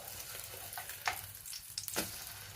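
A bread omelette fries in a pan, giving a steady close sizzle with a few scraping and tapping sounds as it is turned.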